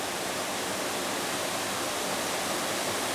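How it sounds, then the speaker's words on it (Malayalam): A stream pours into a rock cave and drains underground, giving a loud, even roar of rushing water that holds without change and has no voices. "ഒരു പാറയുടെ അകത്തോട്ടങ്ങ് പോവാണ് വെള്ളം"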